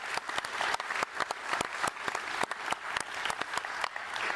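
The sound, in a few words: audience applause at a Scottish Labour conference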